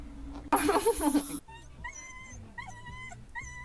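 A dog whimpering in thin, high, repeated whines close by, following a sudden loud burst of noise at the start, with no voices heard.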